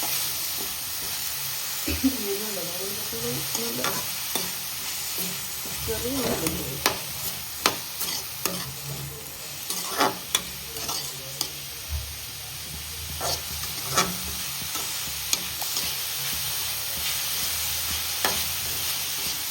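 Agathi flowers stir-fry in hot oil in a pan, a steady close sizzle punctuated by repeated scraping and stirring knocks of a spoon, with no voices.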